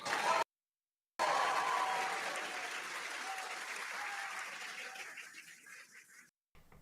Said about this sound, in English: Crowd here very excited as Dragon Freedom continues to make its way.